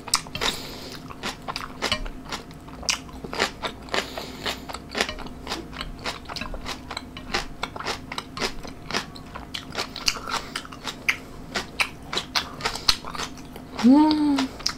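Crunchy cabbage kimchi being bitten and chewed during a mukbang, close-miked, with rapid repeated wet crunches in a steady rhythm and a short voice sound near the end.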